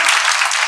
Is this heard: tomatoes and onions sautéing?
no